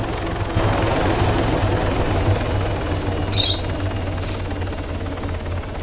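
A helicopter in Arma III comes down to land, its steady rotor thump and engine roar loud and constant throughout, with a couple of brief higher chirps partway through.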